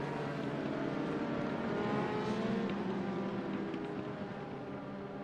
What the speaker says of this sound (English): And the pace car will roll.